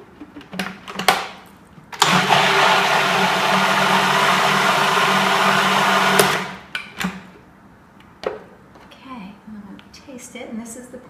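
A blender whirls raw vegan marinara in a carafe for about four seconds of loud, steady grinding, with clunks and handling before and after.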